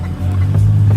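A car engine starts and runs at a Supra car meet, a loud steady low rumble with strong bass harmonics holding for about a second, close by and without talk.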